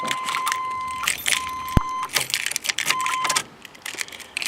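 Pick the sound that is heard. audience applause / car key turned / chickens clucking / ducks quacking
car key turned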